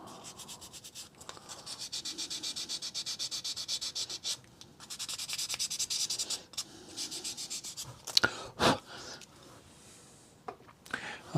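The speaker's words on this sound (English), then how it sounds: "just take the little 600 grade sandpaper and just get that little fettle" Fine 600 grade sandpaper rubs on a small wooden part of a 1/16 scale Sopwith Camel model kit, giving quiet rhythmic scratchy strokes in short bursts, close by, with a few louder knocks near the end.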